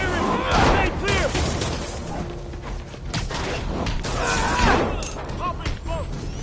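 Gunfire and explosive bursts from the Spider-Man video game mix with clanking mechanisms and crashes, loud and dense throughout, while voices shout callouts over the action.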